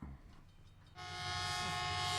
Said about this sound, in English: I got a couple of noises that are pretty funny for train noises.